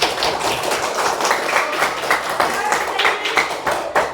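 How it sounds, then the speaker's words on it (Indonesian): A classroom of students applauds a group presentation during a coding and artificial intelligence lesson. The dense, close clapping runs steadily for about four seconds, with voices mixed in. "Beri tepuk tangan dulu semuanya."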